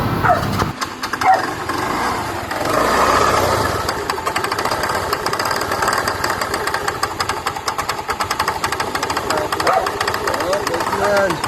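A KYMCO Super 8 150 scooter engine revs and idles with a rapid, helicopter-like chopping throb, loud and close, its pulsing rhythm steady for several seconds.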